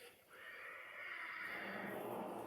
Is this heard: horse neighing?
yes